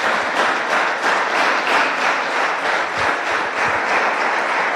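A church congregation breaks into sustained applause, a dense, even roar of many hands clapping together that holds steady throughout with no voices standing out.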